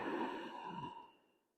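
A single long, soft exhale during tai chi practice, breathy and close, fading away over about a second and a half with no talk.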